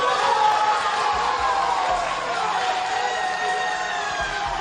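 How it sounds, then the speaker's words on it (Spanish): A crowd gathered outside a police station cheers, whoops and applauds as detained young suspects are released, a continuous, fairly loud wash of shouting voices and clapping with no clear speech. "Con aplausos y con vítores a la puerta de la comisaría en la que han estado retenidos."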